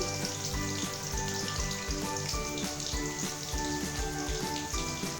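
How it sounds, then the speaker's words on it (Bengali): Chopped green chillies and asafoetida frying in hot oil in a wok, a steady dense sizzle with crackling pops running evenly throughout, close and fairly loud with no talking. "কড়াতে তেল দিয়ে তেলটা গরম হয়ে গেলে এতে দিয়ে দিচ্ছি কুচিয়ে রাখা লঙ্কা কাঁচা লঙ্কা আর দিয়ে দিচ্ছি হিং"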